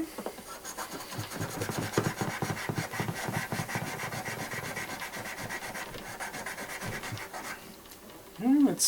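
Stainless steel is rubbed back and forth against a metal surface in a steady rhythmic scrubbing that lasts several seconds, close up and moderately loud.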